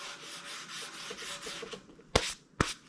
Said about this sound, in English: I've got some 400 grit paper on this foam block. I'm just going to start sanding